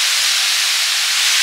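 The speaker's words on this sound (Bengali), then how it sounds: "এবার সব দিয়ে দিচ্ছি, ভাজা করলা, আলু আর মাছ।" Fried bitter gourd, potato and snakehead fish go into a hot pan of oil, giving a loud, steady hiss and sizzle that holds evenly throughout with no speech.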